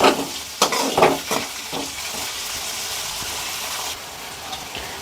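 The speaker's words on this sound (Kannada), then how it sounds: "ಹಾಗೆ ಹಸಿಮೆಣ್ಸಿನ್ಕಾಯಿ ಹಾಕ್ಕೊಂಡು ಇದರಲ್ಲೇ ಫ್ರೈ ಮಾಡ್ಕೊಳ್ಳೋಣ." Onion and green chillies frying in oil for paneer masala gravy, loud crackling sizzle with several sharp stirring scrapes early on, then a steady hiss settling down.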